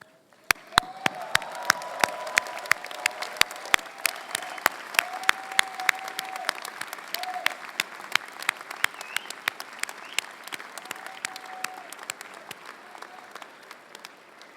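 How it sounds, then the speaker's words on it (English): Commencement crowd at a Berkeley Engineering master's and doctoral ceremony, steady applause and faint cheering filling the hall for the whole stretch, with sharp nearby claps popping out above the broad, moderately distant wash. "Please stand up and give a hearty cheer to all of your families and friends here with you."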